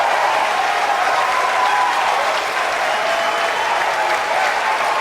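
A crowd cheers and applauds loudly and steadily throughout after a SpaceX Falcon 9 booster landing, a dense continuous wash of clapping and voices.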